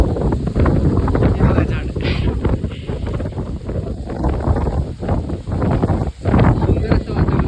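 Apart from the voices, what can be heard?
strong wind blowing before rain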